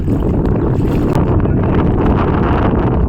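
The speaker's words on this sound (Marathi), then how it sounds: "वारा पण खूप आहे आणि जरा थोडासा पाऊस पण आहे" Strong sea wind roars over a small boat out on deep water in light rain, a loud, steady buffeting rush with no break throughout.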